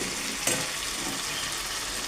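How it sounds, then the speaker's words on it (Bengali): Spicy chicken being cooked down in a kadai, a dense, steady sizzle close by with one brief stir near the start, no voices. "চিকেন কষা করছে"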